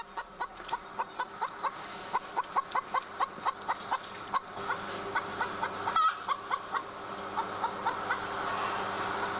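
Caged chickens cluck in a steady run of short, sharp calls repeating through the whole stretch, fairly close and moderately loud over a faint background hum.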